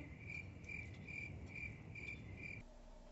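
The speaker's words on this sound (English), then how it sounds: "to have that classic followed up by crickets" Crickets chirp in a steady, even rhythm of six short pulsing trills, moderately near against a soft background hiss, with no voices, before the chirping stops abruptly.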